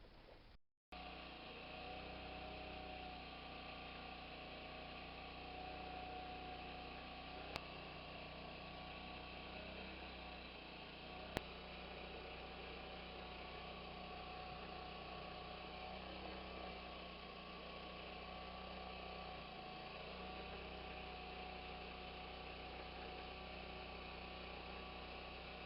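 A Zeny portable washer and spin dryer runs off a generator at an off-grid site, making a steady, unbroken mechanical drone and hum that holds at a constant level throughout, with no talking.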